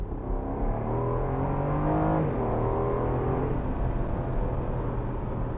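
Aston Martin Vantage F1 Edition sports car accelerating hard through second gear at about 3,500 rpm, from around 30 to 70 mph, a loud, steady engine note climbing continuously in pitch, heard from inside with no talking.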